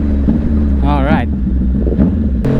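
A CFMOTO 675NK motorcycle on a ride near Subic gives a steady engine drone with wind rush throughout, and a rising whine surges briefly in the middle.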